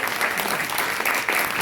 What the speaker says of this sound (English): Round of applause for Barker, please.